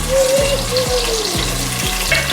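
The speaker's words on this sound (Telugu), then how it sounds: "ఇప్పుడైతే ఉల్లిపాయలు అయితే వేసేసుకుంటున్నా" Sliced onions frying in hot oil for chicken biryani, a continuous close, loud sizzle with bubbling crackle, while a low rhythmic musical tone plays underneath.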